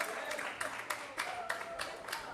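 Faint applause rises for the winning bidder at a fundraiser auction in an opera house, a soft, distant spatter of clapping with pulses of claps, lightly overlaid by talk.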